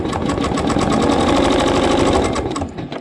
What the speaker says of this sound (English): let the machine stitch step number 12